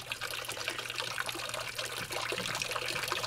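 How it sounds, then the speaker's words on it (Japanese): Water from a Shinto shrine purification basin is cupped in the left hand for rinsing the mouth, a soft, close trickling and splashing that runs steadily with small drips. "右手に持ち替えて、今度は左手に受けます。 水を溜めてください。 そしてその水で口をすすぎます。"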